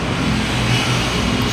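Road traffic passing at a cramped plumbing work site, a steady broadband engine and tyre rush holding at a constant, fairly loud level throughout, with no voices.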